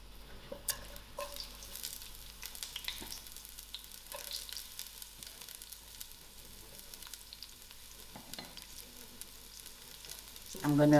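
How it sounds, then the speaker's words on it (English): Onions fry in oil in a pot with a close, crackling sizzle and scattered stirring scrapes, ending in a louder burst of clatter, with no talking. "And then I'm going to throw in my onions to fry."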